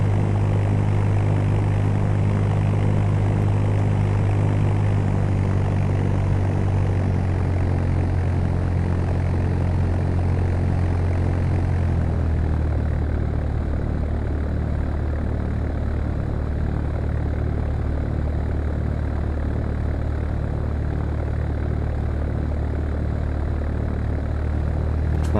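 Propeller airplane in the Fly! II flight simulator at Chicago Midway, a loud, steady engine drone with a strong low hum that shifts pitch partway through as power changes for takeoff, continuous and close, with no talking.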